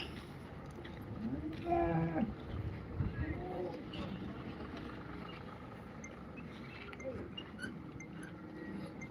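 Cattle at an open-air cow market give a low moo amid a steady murmur of crowd noise and people talking nearby, the lowing fairly distant and partly masked.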